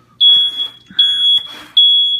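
A water leak sensor alarm sounds at home as three loud, shrill electronic beeps, each followed by a sustained tone. Faint background noises come between the beeps.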